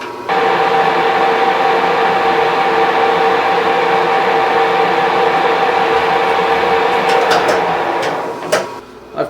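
A metal lathe cutting a 24 TPI thread at 180 RPM gives a steady, loud machining drone with a constant hum throughout, ending in a few sharp clicks near the end; no one speaks.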